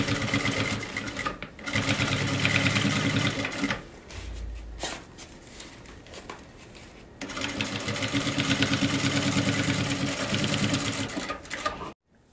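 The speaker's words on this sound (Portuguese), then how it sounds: "Faz a costurinha bem na bordinha e vai puxando o forro." A sewing machine stitches along the edge of fabric while the lining is pulled through, running in two long, busy, rapid bursts separated by a quieter pause, close and clear.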